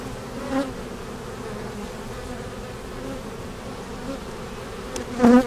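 Honey bees from a captured swarm buzz steadily throughout a hive inspection, a dense continuous drone with a louder burst of close bees near the end.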